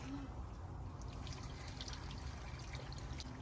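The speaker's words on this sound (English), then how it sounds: "Here we go, filling up the pool." A solar waterfall kit pours water into a turtle pond, giving a faint, steady trickle and splash with small droplet sounds throughout. Nothing else stands out.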